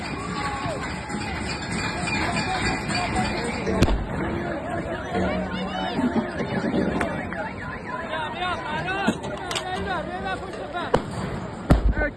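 Several sharp, loud explosions go off at intervals amid whistling, siren-like tones and crowd noise at a street protest in Iran, with a voice speaking over it.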